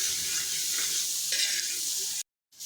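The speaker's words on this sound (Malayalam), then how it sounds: "വറുത്ത് വെച്ചിരിക്കുന്ന ചിക്കനും കൂടി ചേർത്ത് നല്ലപോലെ മിക്സ് ചെയ്യുക." Fried chicken is stir-fried with sauces, including green chilli sauce, for chicken fried rice, giving a loud, continuous hissing sizzle up close that cuts off abruptly near the end.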